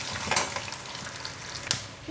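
Peanuts fry in oil in a pan for a Telugu pulihora, a steady close sizzle with a couple of sharper crackling bursts and no talking.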